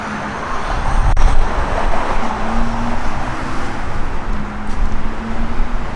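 A 1967 Dodge Coronet R/T engine idles loud and close, a steady low rumble with a faint even drone held throughout and no voices over it.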